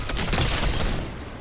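Rapid gunfire in the video game Fortnite: a loud, dense burst of overlapping shots lasting about a second before easing off.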